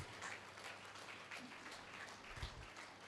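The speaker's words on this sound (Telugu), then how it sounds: "గట్టిగా క్లాప్స్ కొట్టుకుందాం మాస్టర్స్" Applause from an audience at a first-anniversary event in Nizampet, a fairly faint, steady patter of many hands clapping for about three seconds with no voices over it.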